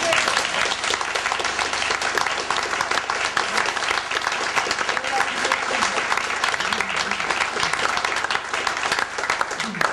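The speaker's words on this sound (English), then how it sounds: "So please, 1 big round of applause" A community theatre audience at Wimborne Community Theatre gives a big, sustained round of applause, loud and dense clapping that carries without a break throughout.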